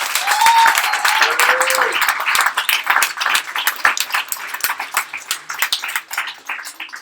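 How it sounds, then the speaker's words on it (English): Audience at a fintech startup weekend in Sydney claps for the mentors, loud and close at first, then thinning into scattered separate claps that fade toward the end, with a little speech mixed in. "Round of applause, please."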